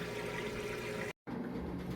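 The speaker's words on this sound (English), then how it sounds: "it is now draining that water out nice and fast" A Maytag top-load washer drains water from a full basket, giving a steady, close rushing and gurgling flow that drops out for a moment and then resumes.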